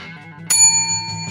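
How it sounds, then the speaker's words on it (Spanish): A single bright bell ding used as a subscribe sound effect, a sharp metallic strike with a clear ringing tone that sustains and slowly decays, alone over a faint hum. "campana, uno de estos así"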